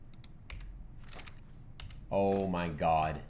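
Computer keyboard typing in short scattered bursts of clicks, close and fairly quiet, after which a person speaks loudly over the end.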